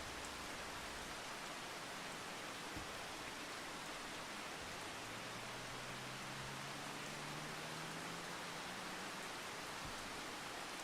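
Steady rain hisses in the farming video game Farming Simulator 25, a constant, even wash of noise with faint low tonal sounds drifting beneath it and no talk.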